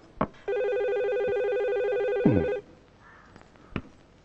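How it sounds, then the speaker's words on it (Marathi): A telephone rings indoors with one sustained electronic ring lasting about two seconds, loud and close, framed by a few soft knocks and handling noises in a quiet room. "सुमन, क्राईम ब्रँच मधनं फोन आला असेल."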